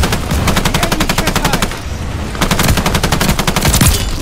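Rapid automatic gunfire in Call of Duty Vanguard, two long loud bursts of fast repeating shots separated by a short pause, close and dominant with no talking.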